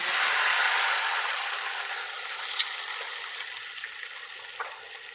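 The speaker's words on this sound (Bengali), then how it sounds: "এই যে রসুন, আর দুই টুকরা আদা, কাঁচামরিচ 4-5টা, আর পেঁয়াজ, এগুলাই যখন দিয়ে ভাজি।" Garlic, ginger, green chillies and onion frying in hot oil, a bright steady sizzle close up that slowly eases, with a few light clicks of stirring.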